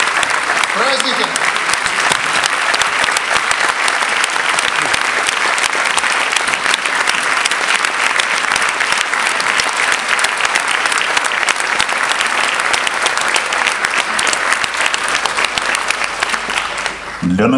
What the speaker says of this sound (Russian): Я хочу, чтобы все мы аплодировали вам.